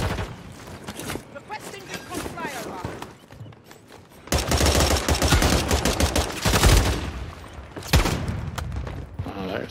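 Video game gunfire in a busy firefight, with sniper rifle shots among dense bursts of shooting and booms that swell loudly in the middle and near the end, under a player talking.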